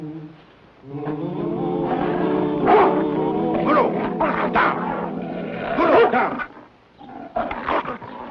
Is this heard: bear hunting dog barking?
yes